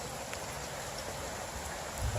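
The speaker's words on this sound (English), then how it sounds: "we're getting some of that penetrating rain that we've been needing for so long" Steady, dense rain pours down in a continuous hiss, heavy enough to run along the street, with no break across the short stretch and occasional faint drips standing out close by.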